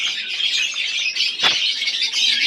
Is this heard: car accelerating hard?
no